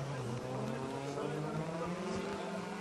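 A drift car roars down the straight at the Ebisu circuit during Formula Drift Japan qualifying, its engine a steady, loud, rising drone heard from a distance over continuous commentary.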